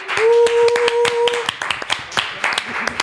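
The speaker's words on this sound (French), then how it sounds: "Je vous demande un tonnerre d'applaudissements pour Attic." Audience at a live show clapping for the arriving guest, a loose patter of sharp, close hand claps with a sustained tone at the start, thinning into scattered claps as voices begin to talk.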